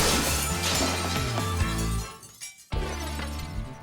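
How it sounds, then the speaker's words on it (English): Pieces of glass thrown at tornado speeds burst and shatter in a loud, close crash, followed by a brief near-silent gap and then more tinkling debris and noise. "They're going to start by throwing glass at tornado speeds."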